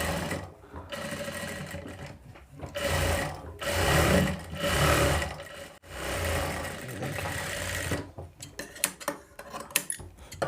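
A sewing machine stitches the front piece of a boat neck blouse, running in close, loud bursts of rapid needle chatter separated by short pauses, ending in quieter clicks and handling sounds.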